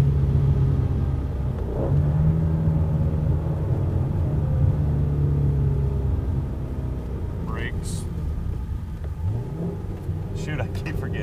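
A Ford Mustang engine revs while rev matching during a downshift, a steady low rumble with brief rising throttle blips, heard from inside the car over road noise.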